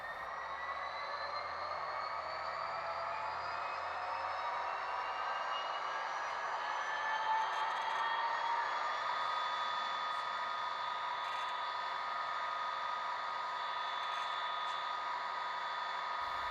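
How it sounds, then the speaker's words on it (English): HO-scale Rapido F40PH model locomotive sound decoder playing the prime mover in HEP standby mode, a steady droning engine hum with whining tones that rise slightly, continuous and moderately quiet with no speech. "F4 turns on HEP mode in standby, which makes the prime mover noise rev"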